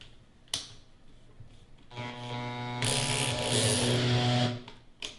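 A small electric drill whirs up with a steady high-pitched motor hum after a click, growing louder and harsher for a couple of seconds before spinning down, close by and alone.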